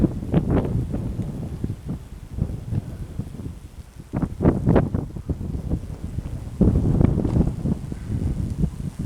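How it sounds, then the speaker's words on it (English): Wind gusting on a mountain stretch of the Long Trail, a steady rushing roar with stronger surges and faint rustling, close to the microphone. "Whew, it's windy."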